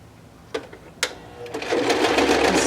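A sewing machine stitches an upcycled denim jeans-pocket purse: a couple of sharp mechanical clicks, then a steady close whirring run of needle strokes.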